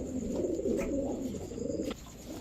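Pigeons at a market coo softly and continuously, a low murmuring close by with no talk.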